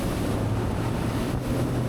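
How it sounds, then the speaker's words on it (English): A Sea Ray 250 SDX outboard boat runs through waves, giving a loud, continuous rush of water and wind buffeting with no pauses. "Going through some waves now."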